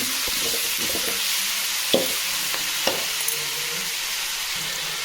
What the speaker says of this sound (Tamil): நல்லா தக்காளி வதங்க நல்லா கிண்டி விட்டுக்கோம்